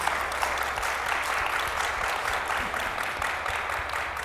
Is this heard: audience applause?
yes